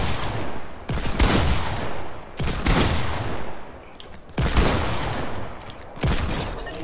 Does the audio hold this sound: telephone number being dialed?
no